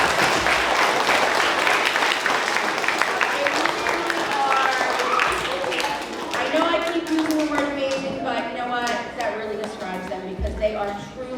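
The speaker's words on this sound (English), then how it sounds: "Can we give them all a round of applause?" A school assembly audience of students and families claps loudly for the principal, teachers and support staff, a dense steady applause that thins slightly toward the end while voices rise underneath.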